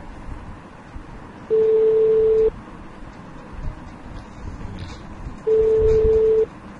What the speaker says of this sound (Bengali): কল দিলে আমার মোবাইলে রিং হচ্ছে, শুনতে পাচ্ছেন